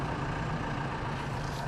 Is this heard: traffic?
yes